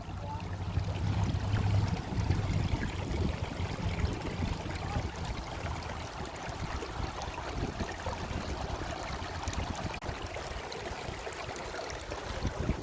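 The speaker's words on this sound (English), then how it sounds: "Dude, I like the sound of the water," Creek water flows in a steady broadband rush outdoors on a nice day. The wash is continuous and moderately loud, with no clear voices over it.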